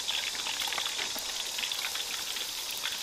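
Fish fries in hot oil in a wok until golden and crispy on both sides, producing a steady, close, bubbling crackle with no voices.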